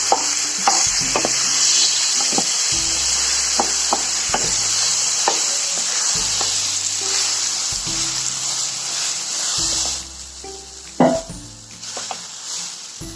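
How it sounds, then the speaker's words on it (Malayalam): Ground jackfruit paste is stirred in a hot pan for chakka payasam. A steady sizzle runs under repeated scraping spoon strokes, with a louder clunk of the utensil against the pan near the end. "നന്നായി ഇളക്കിയെടുക്കാം"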